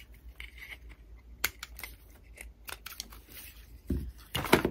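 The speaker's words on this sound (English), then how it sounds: "where it's really stuck with glue, you can just cut it off." Scissors snip through hardened glue holding a candle inside a cheap store-bought decorative holder: a few sharp, close cuts and crinkles, the loudest cluster near the end.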